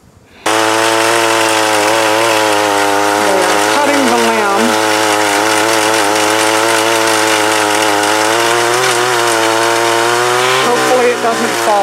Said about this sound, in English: So they have brought out the chainsaw, the pole saw, to cut this limb down